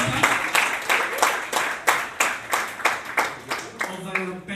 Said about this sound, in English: A round of applause to our overall best speaker.